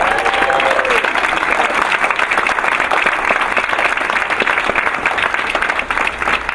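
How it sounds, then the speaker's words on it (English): A school board meeting audience breaks into loud, dense applause, many people clapping continuously and evenly throughout, with faint crowd murmur beneath. "Let's give them a round of applause"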